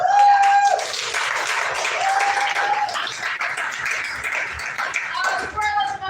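An audience applauds a student team with steady, dense clapping that carries on under a talking voice and fades slightly toward the end.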